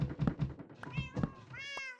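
Cats in the Minecraft modpack CrazyCraft meow in distress, several plaintive mews following rapid knocking thuds, the last meow drawn out and clear.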